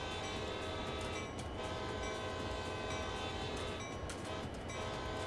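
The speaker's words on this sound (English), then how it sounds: "I'm just naturally letting my train kind of slow itself down." A train in a driving simulator game rolls along, slowing as it approaches a crossing, with a steady loud rumble and mechanical drone and faint rail clicks throughout.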